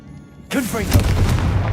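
In Hogwarts Legacy, a Confringo fire spell bursts with a sudden swooping whoosh and then a booming explosion. It stays loud and dense in the foreground of the game's sound.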